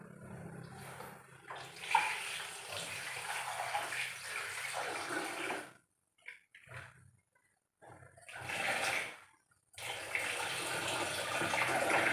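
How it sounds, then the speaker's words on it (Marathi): Water runs and splashes in bursts as roasted bitter gourd is rinsed under a tap, stopping and starting with short quiet pauses. "आता ह्याला धुवून घेते चांगलं"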